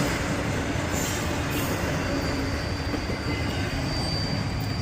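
Long freight trains pass in Danville with a continuous, close roar of wagons rolling on rails, steady rumble and light wheel squeal held throughout.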